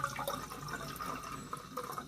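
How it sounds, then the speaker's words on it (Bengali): Water is poured into a pot for steaming vapa pitha, a soft, faint, steady trickle and splash heard close up without talk. "পাতিলে পানি দিয়ে নেবেন,"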